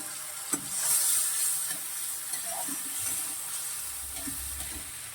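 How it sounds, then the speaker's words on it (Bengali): Ground spice paste sizzles in hot oil with fried onions for a katla fish curry, a steady bright hiss with occasional stirring scrapes and pops, close and alone without talk. "এবার এই বাটা মশলাটা দিয়ে দেবো।"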